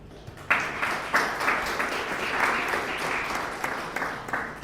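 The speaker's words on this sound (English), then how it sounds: "On a huge round of applause for Dr. Pal" Audience applause breaks out at a semiconductor vision event for Dr. Pal, a sudden, steady wash of many hands clapping that holds at even strength for several seconds.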